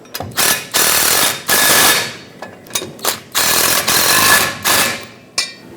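Wrench and 14mm socket tightening bolts on air bag springs of a 1999-2007 Ford F-350, rapid ratcheting bursts in short repeated strokes with brief pauses, close and clear.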